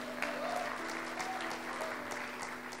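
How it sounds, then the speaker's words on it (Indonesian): Audience clapping at a church talk, a steady patter of many hands at moderate volume with a low hum underneath and a few faint cheers mixed in. "Tepuk tangan dulu dong buat Kak Heni."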